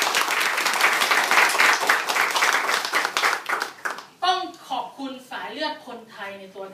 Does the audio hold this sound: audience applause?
yes